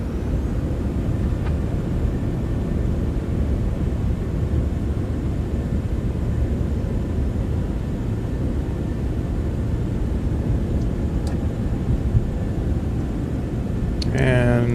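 A Citation X business jet in a flight simulator roars steadily with its thrust reversers at full during landing rollout, a continuous broad engine rush with no change in level.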